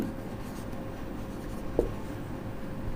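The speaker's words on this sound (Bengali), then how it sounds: "এখানে লিখি" Marker or chalk writing on a board during a chemistry lecture, faint scratching strokes with one small tap under steady room hiss.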